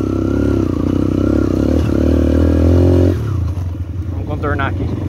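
A loud motorcycle engine roars and strains steadily while riding on sand, then drops off with clattering and revving under a brief voice.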